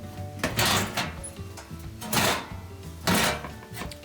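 A metal panel slides and scrapes out of a gas oven in three rough, close bursts of metallic rasping with brief pauses between them.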